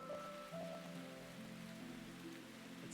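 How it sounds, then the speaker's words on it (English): Steady rain falling on surfaces in the Root Letter video game, a continuous even hiss over soft sustained musical tones, with no talking. "It's starting to rain."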